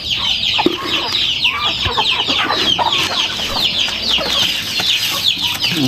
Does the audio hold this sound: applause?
no